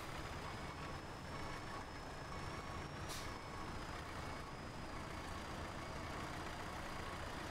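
A truck in the SnowRunner video game beeps faintly in a steady reversing tone over a constant loud engine rumble, with one brief air hiss midway.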